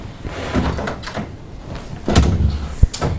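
A door opens at a flat, with rattling and shuffling handling noises followed by a sharp knock or click near the end.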